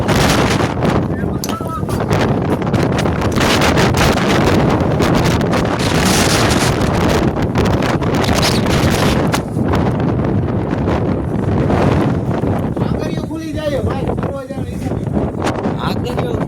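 Strong, steady storm wind roars and buffets the microphone throughout, a dense rushing noise that never lets up.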